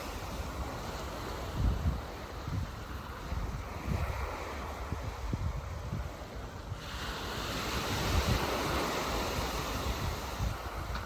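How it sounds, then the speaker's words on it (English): Waves wash gently onto a shore in a continuous soft surge that rises and falls, with wind noise over the microphone. "hearing the waves gently lapping the shore"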